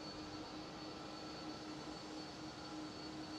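LATAM airliner taxiing at Amsterdam Schiphol airport, a steady broadband jet engine roar with a faint sustained whine, constant in level throughout, heard from a moderate distance with no voices.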